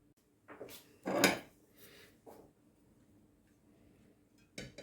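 Dishes and bowls clatter in a kitchen while boiled chicken meat is sorted from the bones, a few sharp clinks and knocks scattered across a quiet background, one louder clatter early on.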